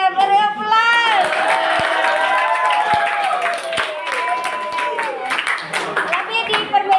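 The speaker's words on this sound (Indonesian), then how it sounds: "setelah itu tertib, beri aplaus" A group of students clapping and cheering in a classroom, loud continuous applause with shouts and whoops, children's voices rising over the clapping throughout.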